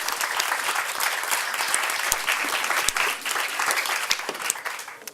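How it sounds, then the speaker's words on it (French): Steady audience applause at a Swiss neuroscience science show, dense clapping from a crowd, moderately loud and continuous for several seconds without speech. "Bravo, oui, applaudissez-la."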